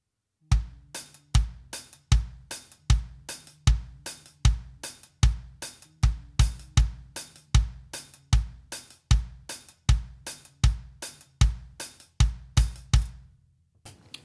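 A drum kit plays a steady groove of only kick drum and hi-hat, sharp regular hits repeating evenly for about fourteen seconds, close and clean with no voices.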